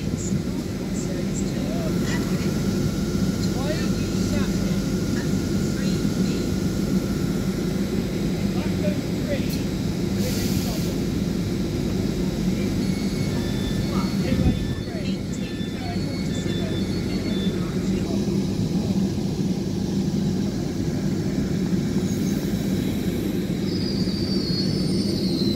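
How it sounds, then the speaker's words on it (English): An LNER Azuma train pulls into Doncaster station on the East Coast Main Line, a steady low rumble and hum of the passing train holding throughout, with a faint wheel squeal and people talking on the platform. "London North Eastern Railway Azuma, arriving at Doncaster."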